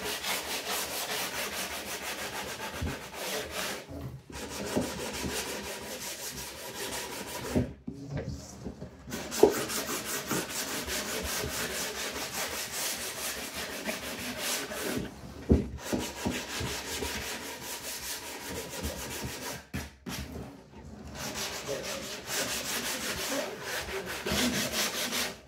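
Sandpaper is rubbed over a wooden workshop drawer whose edge was cut with a 3 mm router bit. Steady, close scratchy strokes run continuously, broken by a few short pauses.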